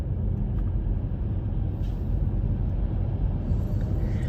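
Loud, steady low rumble of a Cobra's straight-piped exhaust, heard continuously from inside a following car on a road trip, a dense throaty drone with no breaks.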